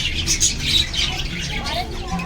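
Small birds calling inside a zoo aviary: overlapping chirps and squawks, close and busy, with people talking underneath.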